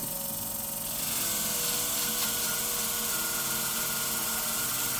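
Curved grooming shears are convex-sharpened on a Katoku guiding system, giving a continuous, even machine whine with a faint grinding hiss. It holds steady throughout with no speech.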